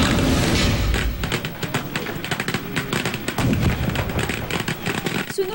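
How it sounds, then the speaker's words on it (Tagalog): Firecrackers go off at a fireworks store in Bulacan, a rapid, crackling string of sharp pops and bangs, dense and continuous, with no talking. "Sunod-sunod na putukan."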